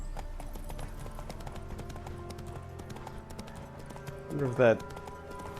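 Horse hooves clip-clopping in The Witcher 3, a steady run of soft hoof knocks under someone talking, with a louder burst near the end.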